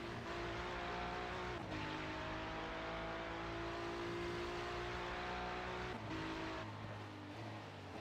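GT3 race cars, Ferrari and Porsche, roar down the start straight at Hockenheim in a racing simulator, with sustained droning engine tones that shift gear and pitch, steady and loud throughout, with no speech.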